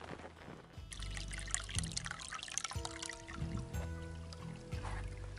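Water trickling at a spring along the Appalachian Trail near Walker Gap, a steady close pouring and gurgling that runs continuously without talk.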